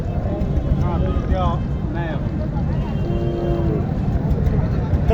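A cow moos a few times, low and drawn out, at a cattle market in Matajihat, Naogaon, over steady broadband outdoor noise with talk nearby.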